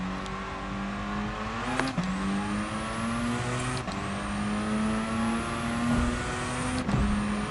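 A modified car in a racing video game drones along with a steady engine note, which rises and drops sharply at about two, four and seven seconds as it brakes and shifts. The sound stays constant and close, with no talking.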